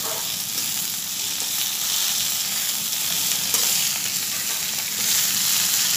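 Chopped medicinal leaves for a Kerala ten-leaf thoran are stirred and fried in a pan, giving a steady, close sizzle that hisses on evenly throughout with no talking.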